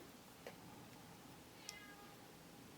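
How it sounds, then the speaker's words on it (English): A house cat gives a single short, faint meow partway through an otherwise quiet indoor moment, with a couple of soft ticks around it. "My cat just meowed."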